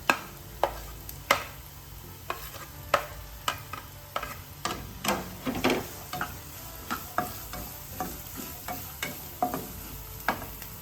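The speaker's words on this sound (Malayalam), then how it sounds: "ഈ ചൂടായ എണ്ണയിലോട്ട് ഒരു സവാള ചെറുതായിട്ട് അരിഞ്ഞത് അതിട്ട് കൊടുക്കാം." Finely chopped onion sizzles in hot oil for a Kerala breakfast or dinner dish, under a soft steady hiss. Sharp spatula strikes against the pan punctuate it roughly every half second, close and without talk.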